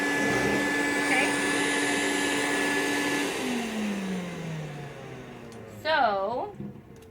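A Rainbow vacuum cleaner runs with a steady whining hum whose pitch drops midway as the load changes, and a person talks over it near the end.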